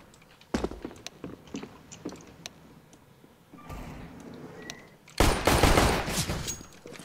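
Video game shooter gunfire: scattered single shots early on, then a sustained loud burst of rapid fire near the end, with quieter clicks and footsteps in between.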